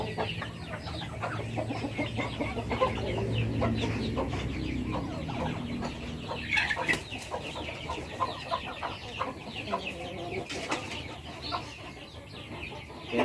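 Chickens cluck and fuss close by in a steady stream of short calls over a noisy outdoor background, with some louder squawks partway through.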